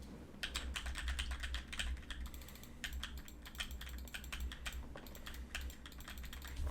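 Steady, rapid computer keyboard typing with clicky keystrokes over a low background hum, continuous and close.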